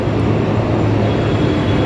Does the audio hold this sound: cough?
no